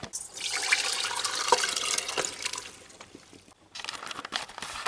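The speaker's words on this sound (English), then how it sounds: "So let's empty the water out now" Water pours and trickles out of a container of soaked rice into a sink, a close, continuous splashing that thins to drips before pouring again.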